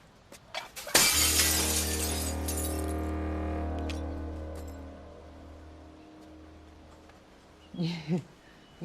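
A handmade glass piece flawed by an air bubble is smashed, a sharp loud shatter followed by long ringing resonance as fragments settle, with brief voices afterward.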